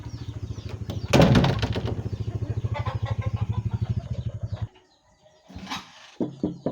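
A motorcycle engine starts and idles with a rapid, even putter, then cuts out, followed by a brief restart and revving.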